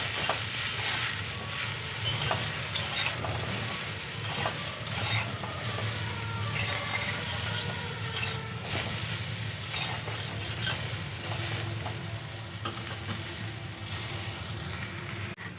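Cauliflower curry with ginger, onion and green chilli fries with salt in a pan, giving a dense continuous sizzle and hiss with faint stirring scrapes, close and steady throughout.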